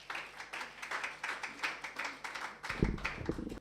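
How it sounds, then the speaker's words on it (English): Audience applause at a formal academic session welcoming a guest speaker, steady dense clapping throughout, with a brief louder low thump near the end. "Please give her a round of applause"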